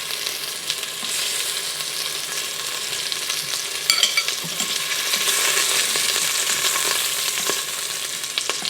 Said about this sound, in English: we're only searing them for about 2 minutes per side